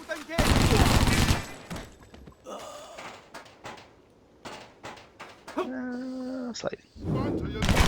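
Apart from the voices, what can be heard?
gunfire in the video game Stranglehold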